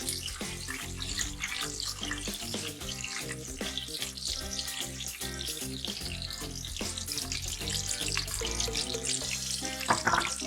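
Water runs steadily into a cooking pot while dal is prepared without oil or butter, a continuous loud splashing pour with faint sizzling for the full stretch and no talk.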